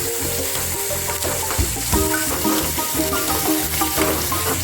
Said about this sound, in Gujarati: તો ટમેટાને પણ આપણે મિક્સ કરી રહ્યા છે અને થોડીક વાર તેને ગરમ થવા દઈએ